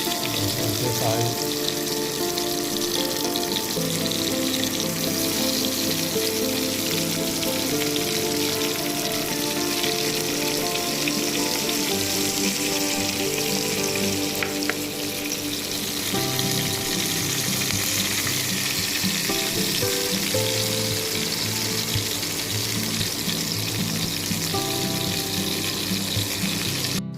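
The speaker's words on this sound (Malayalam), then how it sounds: "നമുക്കൊരു ഇല കൊണ്ടൊന്ന് പൊതിഞ്ഞിട്ടോടെ വറക്കാം" Red snapper wrapped in a leaf and frying in a pan gives a loud, constant hissing sizzle that runs unbroken for nearly half a minute, with a steady tonal hum underneath.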